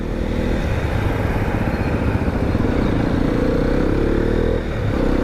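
A Hero Xpulse 210 motorcycle is ridden, its engine droning steadily and fairly loud throughout with a brief dip near the end, no one talking.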